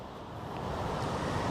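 Ocean surf washing onto a shore where horseshoe crabs gather, a steady broadband wash swelling slightly louder, with wind rumble mixed in and no voices.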